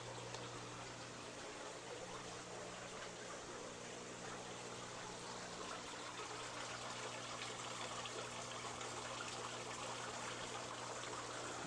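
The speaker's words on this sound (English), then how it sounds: "So now we got water going in." Water pouring and trickling into an 800-gallon indoor fish pond, a faint, steady splashing flow that continues unbroken with no talk.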